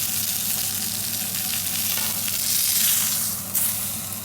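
Tomato sauce in a pan on medium heat sizzles and bubbles steadily as it is stirred, a close, continuous crackle with a brief louder burst near the end and no talking.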